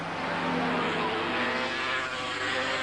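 500cc Suzuki racing motorcycles at Donington Park, their engines making a steady, dense roar at a distance for the whole stretch, with no clear gaps or passes standing out.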